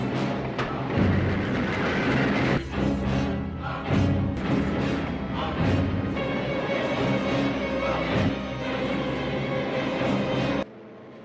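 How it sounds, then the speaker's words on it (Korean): An oncoming train in a dramatic movie scene rushes past as a continuous loud rumbling roar, with heavy thuds and clattering throughout, stopping abruptly near the end. "하지만 달려온 열차에 찰리는 죽어버리고"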